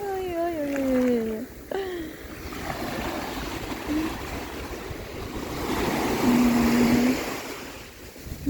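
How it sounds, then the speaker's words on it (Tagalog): Surf rolling and washing on Stanley Beach, South Island, Hong Kong, with breezy background noise, while voices call out excitedly over it. "Ayun na! Ang alon!"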